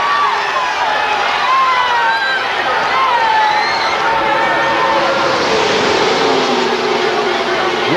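A crowd of 170,000 at a motor race roars continuously in the distance, a broad wash of cheering with engine whines sweeping through and a commentator talking over it.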